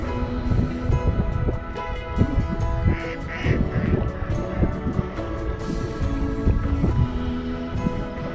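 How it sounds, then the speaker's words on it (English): A flock of mallard ducks quacks continuously nearby along a kayak path between Metairie and Bucktown, dozens of overlapping nasal calls forming a busy, restless chorus with occasional louder honks standing out. "it's a bunch of mallards"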